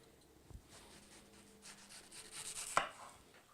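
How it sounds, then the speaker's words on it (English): A knife cuts around the pit of a mango, with soft, close slicing and rubbing strokes and a light tap on the board, quiet and without speech. "We'll bring our knife onto the eye and come off about maybe a ½ inch and cut it round on both sides."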